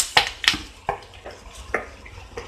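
Metal spoon scraping and clinking in a hot oil pan as onion, green chili and curry leaves are stirred in for an egg drop curry, six or seven sharp close knocks at irregular intervals over a soft sizzle.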